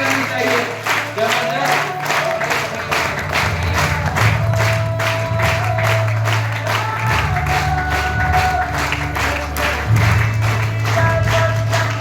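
Audience applause and cheering in a hall during an honoring ceremony at a leadership session, steady crowd clapping over loud background music throughout.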